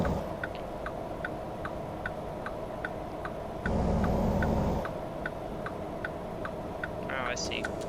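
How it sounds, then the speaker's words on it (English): A truck's turn signal in the video game Rigsters Journey ticks in an even, quick rhythm of soft clicks over a low engine hum, with a brief louder rumble midway. "I should signal right."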